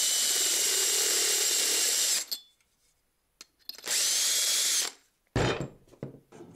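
A whirring power drill with a step drill bit enlarges the hole in a metal washer in two sustained bursts separated by silence, with a grinding metallic bite, then a short clatter of handling at the end.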